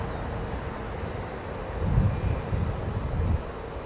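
An aircraft at London Heathrow Airport roars on takeoff, a broad steady engine rumble heard from a distance with wind noise, swelling slightly midway and continuing throughout.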